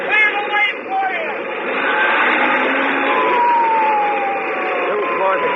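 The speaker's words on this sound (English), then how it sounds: "Sirens screaming, red lights flashing." Wailing emergency-vehicle sirens from a radio drama sound effect, rising and falling over a dense roar of traffic and engine noise, loud and continuous throughout.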